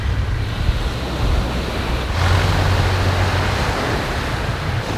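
Waves breaking on a Cancun beach, a loud constant rush of surf with strong wind noise on the microphone and a slight swell midway, no speech.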